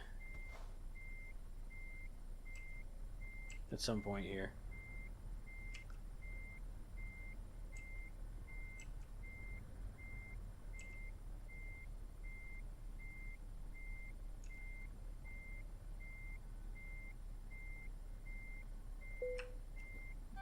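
Low air pressure warning in a truck cab in Euro Truck Simulator 2: a steady, evenly spaced electronic beep repeating for the whole stretch over a low engine drone, with someone speaking briefly near the start.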